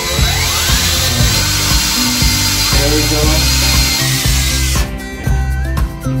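A power drill boring a hole during a smart bidet toilet installation, with water cooling the bit, whirs steadily and loudly up close for about five seconds before stopping, while a person speaks briefly.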